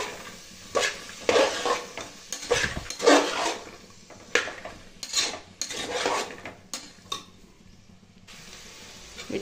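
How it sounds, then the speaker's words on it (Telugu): Vegetable masala curry is stirred in a metal pan, with repeated clanking and scraping strokes of a spoon against the pan over a light sizzle, in irregular bursts with brief pauses and no voices. "ఒకసారి కలుపుకొని కొంచెంసేపు ఉడికిద్దామండి"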